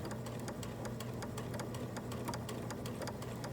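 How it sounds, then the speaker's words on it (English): A sewing machine stitching through fabric in a steady, continuous mechanical hum with a fine rapid ticking of the needle, close by and moderately quiet, with no voice over it. "sew to the pin. Stop, pull out the pin. Keep going."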